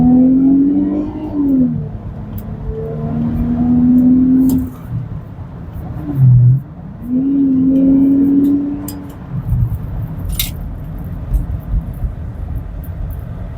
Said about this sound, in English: And that engine note, again, I would say very much bliss.